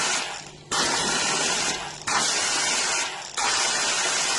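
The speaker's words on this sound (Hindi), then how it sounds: "ये प्रेशर इसको आपको मिलेगा कार वॉशर पंप का, काफी प्रेशर है" Car washer pump with a foam water pressure gun blasting water under high pressure, heard as loud hissing spray bursts that stop and restart three times, close and alone.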